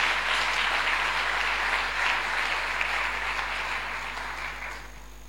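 A church congregation claps together during a sermon, a dense, even wash of applause that stays steady and then slowly fades toward the end.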